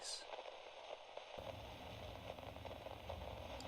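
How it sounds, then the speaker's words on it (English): Low-level white noise static, a dense even hiss with faint crackle that thickens and fills out after the first second and a half, continuing steadily to the end. "White noise."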